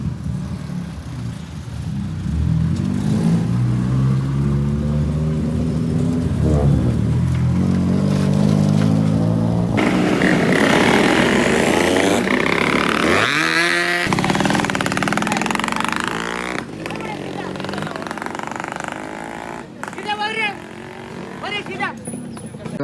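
Cars fitted with loud noise-bomb exhausts rev hard at a crowded campus car gathering, engines roaring and rising in pitch with sharp bursts, loud and near, while people talk over them.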